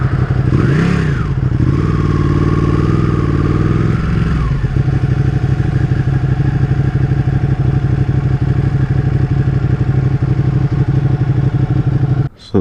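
A Ducati 959 Panigale motorcycle engine runs close by, a loud, steady mid-pitched drone that swells as it revs briefly near the start, then holds a rough, even idle before cutting off abruptly at the end.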